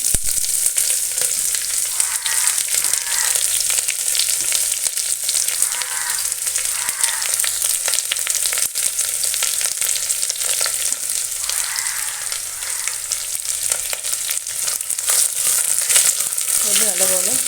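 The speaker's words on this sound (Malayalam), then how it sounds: "കടുക് പൊട്ടിയതിന് ശേഷം നമ്മൾ അരിഞ്ഞു വെച്ചിരിക്കുന്ന സവാള" Chopped onions hitting hot oil after mustard seeds and curry leaves for a Kerala chickpea curry, a steady loud sizzle with occasional stirring scrapes, no voices over it.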